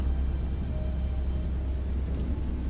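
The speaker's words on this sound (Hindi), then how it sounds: "बारिश अब भी जोर जोर से बरस रही थी" Heavy rain pours in a steady, dense wash of noise with a deep low rumble underneath, continuous and unbroken throughout.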